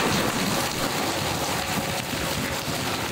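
Heavy rain pouring down in Sindh gives a dense, steady hiss with a gusty wind-like roar that stays loud throughout.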